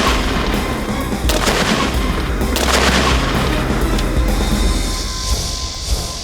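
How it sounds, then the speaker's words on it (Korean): An EOD water cannon disruptor, set close to an explosive device and aimed remotely from at least 25 m away, fires with a loud, sharp boom and a rumbling blast that carries on through the whole stretch. "폭발물 가까이 물포총을 거치하고 원격 조준."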